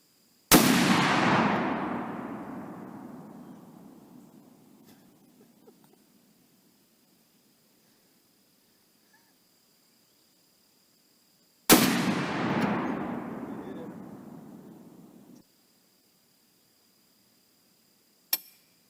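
Two thunderous Barrett M82A1 .50 BMG anti-materiel rifle shots, each a sharp loud blast with a long rolling echo decaying over several seconds, spaced about eleven seconds apart, followed near the end by a brief metallic click.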